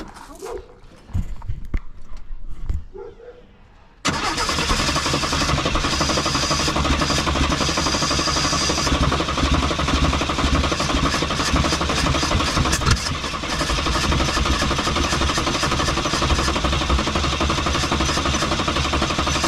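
Car engine being cranked after a new starter and fresh spark plugs, a short uneven rattle of cranking, then a loud sustained rough running roar that continues steadily to the end.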